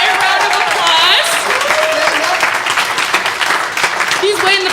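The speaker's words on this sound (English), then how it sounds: "So let's give him a round of applause" Loud applause from a crowd at an opening ceremony for Calvin Cook, steady dense clapping lasting throughout, with voices and cheering mixed in over it.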